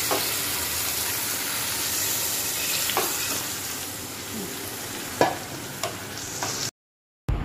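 Paneer cubes sautéing in a hot pan make a dense, continuous sizzle close up, broken by a few sharp spatula knocks and scrapes, then a sudden short silence before the frying resumes.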